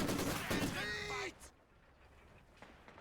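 Rifle gunfire in a competitive video game playoff match: a loud, rapid burst of shots for about a second, then it stops abruptly, leaving faint background sound.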